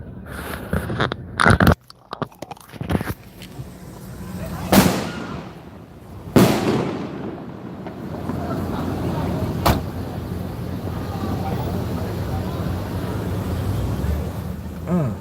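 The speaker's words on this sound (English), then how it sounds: "there's some fireworks about to pop off behind us" Fireworks bursting over New York City on a Friday night, with sharp loud booms and crackles early on, then a long rumbling, echoing tail and lingering city noise.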